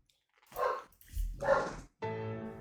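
A dog barks a few times nearby in short loud bursts, followed by a sustained harmonic whine or yelp, with no talk over it.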